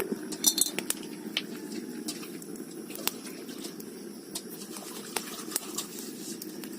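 A metal lid is set onto a cooking pot at home, giving light clinks and clatters of metal cookware over a soft background hum, with a few sharp chinks.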